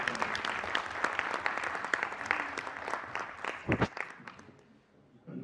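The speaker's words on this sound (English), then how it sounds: "One more round of applause for Sunil" Applause from the audience at a school leaders' conference in an IIT Delhi hall, a steady wash of many hands clapping that thins toward the end, with a faint voice underneath.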